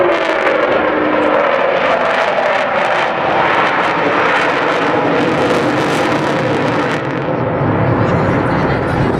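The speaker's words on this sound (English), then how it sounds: "Well, as you see, not the quietest of aircraft, but certainly one of the most impressive." The Avro Vulcan XH558 bomber passes over an air show on Ayr beach, Scotland, a loud continuous roaring, howling jet noise filling the whole span, close and overwhelming.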